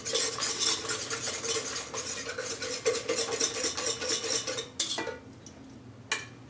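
A whisk beating egg into waffle mix in a bowl, fast and steady with continuous scraping and clinking close by, then slowing and stopping near the end with one final tap.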